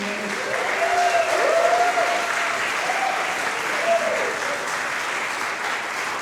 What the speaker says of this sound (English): But can we give a round of applause to Hale's band director, Mrs. Katie